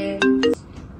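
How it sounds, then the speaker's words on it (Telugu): A phone ringtone sounds in two short, bright melodic bursts close by, each about a third of a second, then falls quiet. "ఫోన్ చేస్తున్నారా ఏంటి?"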